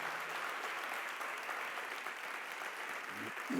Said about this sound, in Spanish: Si le va a aplaudir, apláudale fuerte al Rey.